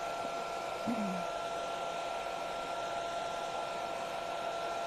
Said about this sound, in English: I'm going to hit that with a hairdryer